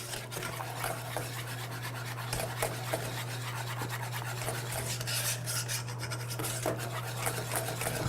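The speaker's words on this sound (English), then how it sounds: "once I get it in here, I'm gonna get my whisk" A whisk scraping and rasping continuously around a pot as a mixture is beaten to work out lumps, fast steady strokes over a low constant hum, fairly quiet and with no talk.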